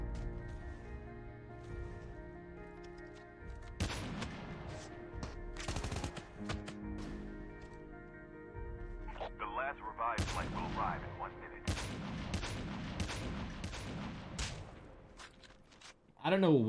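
Gunfire in COD Mobile battle royale, several sharp shot bursts mixed with game sounds and music, a louder cluster around the middle and more shots near the end, with a voice talking over parts.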